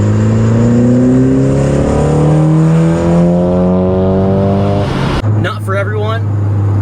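A full bolt-on four-cylinder Honda Civic engine revs up hard, pitch climbing steadily for several seconds before dropping sharply on release, then settling into a rough idle, loud and close.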